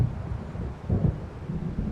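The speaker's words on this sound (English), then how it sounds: "It seems there's a storm coming." Low rolling rumble of thunder from an approaching storm in Alan Wake Remastered, a continuous murky roar with gusty swells, no voices.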